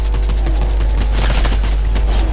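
Gunfire in the Fortnite video game: a dense, loud, continuous burst of rapid shots fills the whole moment with no voices over it.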